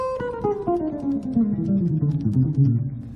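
A plucked guitar line steps steadily downward from high notes to low, each note ringing into the next, played alone and clearly.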